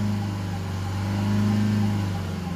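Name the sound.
Range Rover Evoque 2.0 engine revving when accelerated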